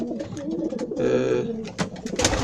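Pigeon cooing close by, soft repeated throaty coos with some brief higher chirps mixed in over a steady background.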